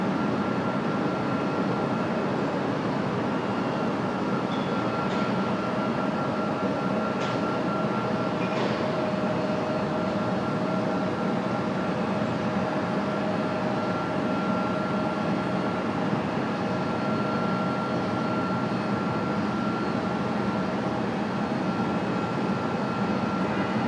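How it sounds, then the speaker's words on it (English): A UPS Airbus A300 departing Raleigh Durham airport at night, a loud steady jet roar with a broad rumble and sustained whine, unbroken throughout with no talking. "here comes the A300 for UPS. Our last departure, official last departure of the night."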